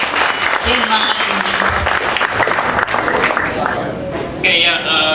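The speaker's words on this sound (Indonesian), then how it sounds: "boleh tepuk tangannya buat Mas Rahman Imran" Audience applause at a Bandung game developers' meetup, dense steady clapping from a crowd indoors with voices mixed in throughout, easing slightly near the end.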